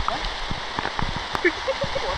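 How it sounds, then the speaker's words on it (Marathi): Heavy monsoon rain pours steadily through a forest, a dense, continuous close hiss with scattered pattering drops, fairly loud throughout, with faint voices murmuring underneath. "तर पाऊस तुफान चालू झाला आहे, गडगडाट चालू आहे."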